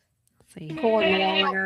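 Newborn goat kids just after birth let out a high-pitched, wavering bleating cry, loud and close, following a short spoken remark from a person.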